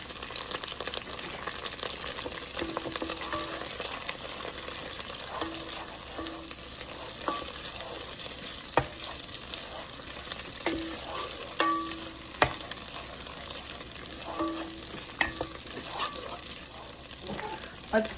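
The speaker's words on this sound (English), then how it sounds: "So as our onions are cooking and they're starting to get a little translucent, we're going to go in with some bacon bits" Onions and bacon bits fry in a pot with a steady, close sizzle, broken by occasional clinks and scrapes of stirring throughout.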